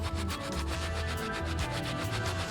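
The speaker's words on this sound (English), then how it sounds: "grind that on the palm of your hands, just like this" Dried oregano being rubbed and ground between the palms makes a close, continuous dry rustling and scratching sound, steady and unbroken, with no speech.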